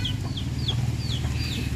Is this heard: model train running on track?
no